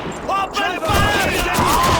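Rifle and machine-gun fire crackles through a World War II battle in Call of Duty 2, steady and dense over the whole stretch, with shouted voices cutting in and out above it.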